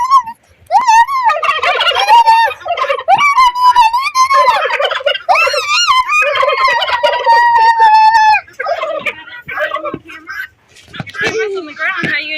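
Farm turkeys gobble in a loud, warbling chorus of rapid rattling calls, near and continuous for several seconds, with a voice and other talk mixed in toward the end.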